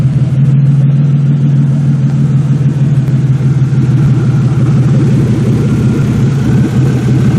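A 2002 Buick prepared for a demolition derby runs steadily at a rough idle, loud and close, its engine holding an even, throbbing note throughout with no voices.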